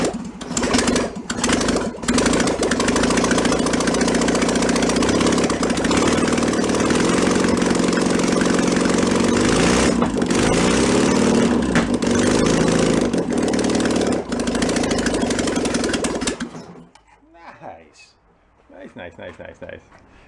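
An old VW Bus engine pulled from a barn and run on a test stand with premix two-stroke gas sputters, then runs loud and rough with a steady idle before cutting off, leaving quieter sounds.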